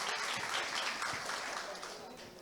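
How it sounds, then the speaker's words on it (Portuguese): Applause from a teen church-training audience for a speaker, a faint, fairly even patter of many hands clapping that fades slightly toward the end. "Ok, palmas para ela também"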